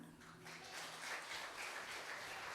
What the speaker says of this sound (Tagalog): Lahat nga po ng masaya ay pumalakpak